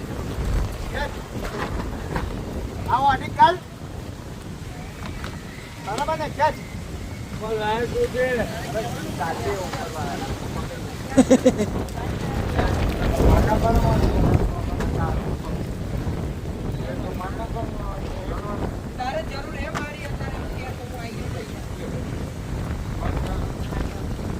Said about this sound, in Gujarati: પવન આવે ડેન્જર અંધારા તો કઈ દેખાતું હોય નહીં હું પવન બતાવું